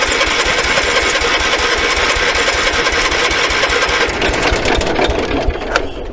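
A small engine with choke engaged runs loud and steady from the start, a dense continuous rattling roar that roughens and flutters toward the end as the choke is eased.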